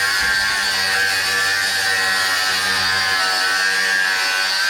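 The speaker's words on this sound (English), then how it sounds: "we're gonna have to chop the U-bolts off before we can actually tighten them" Power tool cutting through steel U-bolts during a Dmax lift kit suspension install: a steady, loud, high-pitched buzzing grind that runs nonstop and close by.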